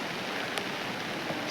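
Steady, soft hiss of rain falling on a Sunday, an even wash of drops with a couple of faint, slightly brighter patters and no voices.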